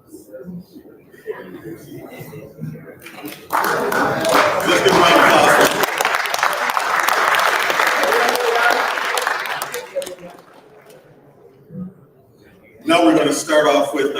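Applause from a crowd at a student awards ceremony swells and holds for several seconds, with some chuckling mixed in. It fades to quieter room noise and talk, then another short burst of clapping breaks out at the end.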